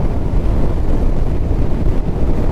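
Steady, loud wind rush buffets the microphone while riding a 2024 Honda ADV 160 scooter, a continuous broadband roar with no talk.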